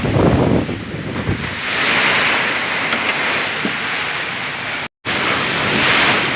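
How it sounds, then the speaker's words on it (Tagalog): Strong typhoon wind roars and buffets the microphone continuously, a loud rushing noise with gusts and a brief dropout near the end. "sa sobrang lakas ng hangin"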